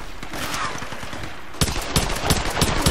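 Rapid machine gun fire in the Tomb Raider video game rattles in dense, steady bursts, growing louder and sharper partway through, with no talk over it.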